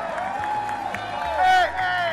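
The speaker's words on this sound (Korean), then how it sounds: "방금 느꼈던 이 공연의 감동을 그대로 담아서 함성을 질러주시면 되겠습니다" A studio audience at a televised music show with a band cheers and shouts together after a performance. The cheering is loud and sustained, swelling near the end with bright rising whoops over a steady crowd roar.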